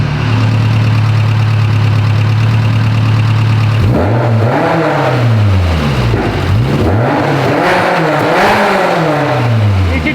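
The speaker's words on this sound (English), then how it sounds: "Go rev it up a little. As you guys can hear, this thing's a little bit knocky." Knocky car engine idling with a steady drone, then revved several times in rising and falling swells, loud and close with a rough, uneven edge.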